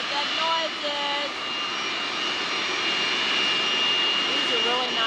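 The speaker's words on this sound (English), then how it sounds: "There's the airplanes in the background getting ready to take off." Continuous jet engine rumble and whine from airplanes on the ground preparing to take off, steady and fairly loud, with faint chirping tones briefly rising above it.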